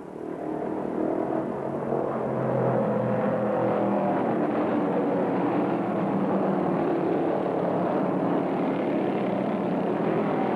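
A Plymouth Roadrunner stock car at full throttle at the 1968 American 500 at Rockingham, NC, makes a steady, loud broadband engine roar that holds without a break, with no one speaking.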